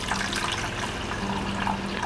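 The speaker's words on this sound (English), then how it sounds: "We're going to pour just a little bit of water very slowly in here." Water poured slowly into a tiny reef tank, a steady close splashing and trickling of liquid that continues evenly throughout.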